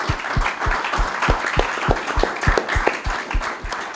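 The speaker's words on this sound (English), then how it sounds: "just another round of applause for the speakers and our youth that are here" Small audience applauding the speakers and youth at an indoor talk, steady rhythmic clapping with a few distinct near claps over a softer background of hands, continuous and moderately loud.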